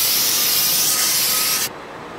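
An aerosol spray can hisses onto the edge of a Masonite workbench, a steady close broadband spray lasting under two seconds before it cuts off abruptly to quiet.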